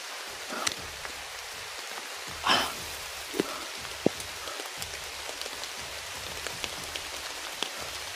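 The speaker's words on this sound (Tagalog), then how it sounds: "malakas na talaga yung ulan" Rain pours steadily onto a surface, a constant hiss dotted with sharp drops and occasional louder splatters nearby.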